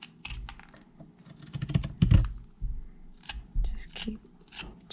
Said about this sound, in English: So I'm going to use a pull cut.